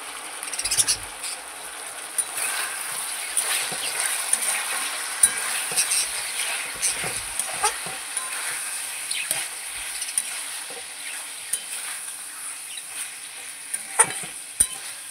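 Chicken curry with chili powder sautéed in a pan, a continuous close sizzle under repeated scraping and clinking as a spoon stirs, with no voices.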